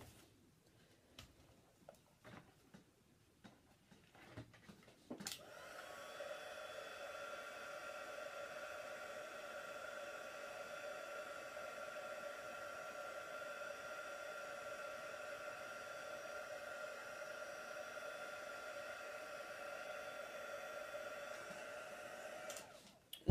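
A heat tool blowing hot air to melt embossing powder for a Stampin' Up! card technique, a steady whirring hum that starts after a few soft handling taps and runs evenly for nearly twenty seconds before clicking off.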